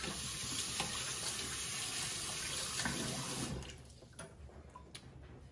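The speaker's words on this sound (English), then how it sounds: "So I'm just gonna quickly rinse off my hands." Tap water runs steadily into a sink as hands are rinsed, a broad continuous splashing rush for most of the clip that cuts off near the end, leaving a few faint drips and handling sounds.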